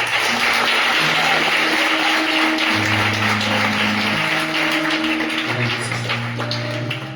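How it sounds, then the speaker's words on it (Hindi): Applause from a church congregation welcoming a pastor to the stage, a steady wash of many hands clapping together over soft sustained music, holding at an even, fairly loud level before easing slightly toward the end. "तो आइए हम उनको स्वागत करें तालियों से।"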